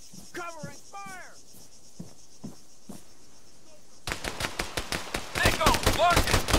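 Dense automatic gunfire erupts from an ARMA 3 battle after a few quiet seconds of distant voices, the rattling bursts growing louder and more continuous toward the end.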